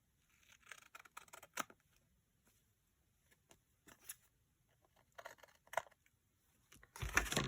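Scissors being handled among a pile of paper while making a Victorian junk journal, with scattered faint clicks, snips and rustles separated by quiet gaps, ending in a louder burst of paper noise.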